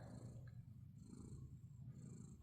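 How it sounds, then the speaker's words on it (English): A pet cat purrs steadily and softly while being petted during medication time, a low continuous rumble with faint background noise and no voices. "And she's purring right away."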